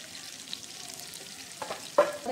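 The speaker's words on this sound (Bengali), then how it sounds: "আমি এখানে দেব গরম মশলা, আর সামান্য একটু জিরে ফোড়ন দিয়ে দিচ্ছি।" Cumin seeds and garam masala sizzle in melted butter, a soft crackle close up in the pan with a few scraping clinks near the end, no voices.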